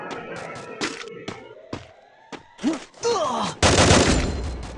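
Counter-Strike match gunfire comes as a string of sharp, separate shots, then a dense burst of rapid fire at the end. Brief vocal sounds are mixed in.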